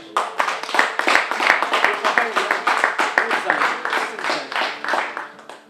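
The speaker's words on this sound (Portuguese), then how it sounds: "Uma salva de palmas." Warm applause at a Portuguese gathering, many hands clapping in a lively rhythmic patter with a few sharp nearby claps, while a voice speaks over it.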